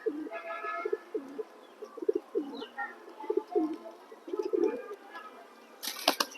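Racing pigeons kept by a breeder coo in repeated low, throaty bursts close by, a steady run of calls with a brief rustle near the end.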